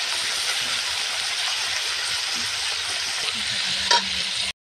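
Pieces of chicken meat, two leg pieces among them, hit fried onions in a pan for a village-style chicken curry, giving a loud continuous sizzle with scraping stirs and a brief clatter near the end.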